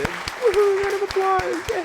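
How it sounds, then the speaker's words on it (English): Sparse, evenly spaced handclaps under a voice talking over them, like a small, thin round of applause. "Round of applause."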